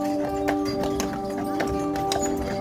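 Horse hooves clip-clop steadily in a barn at a Mackinac Island carriage company, a run of repeated near strikes over a constant hum with a faint background voice.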